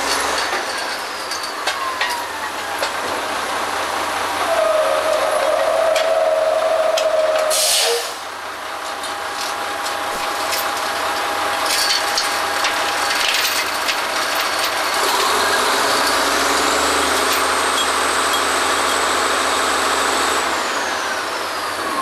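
An oil well drilling rig running on the rig floor, a continuous loud mechanical din with clanks, a hiss of air, and whining and grinding tones that shift and rise over twenty seconds.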